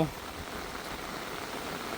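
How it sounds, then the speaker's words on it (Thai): Rain falls steadily at a rural home, an even, hissing wash of drops on surfaces that continues without pause, close and moderately loud. "ฝนตกแหละ"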